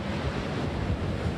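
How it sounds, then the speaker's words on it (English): Strong wind gusts roar steadily during a storm in Carteret County, a dense, loud rush of air buffeting the microphone with no let-up and no voices. "But these gusts, we're hoping you can hear it as well"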